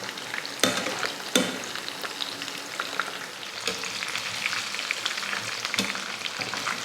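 Spicy chicken 65 pieces sizzle steadily in hot oil, with sharp clattering strokes at intervals as they are flipped over to crisp on both sides; no one speaks.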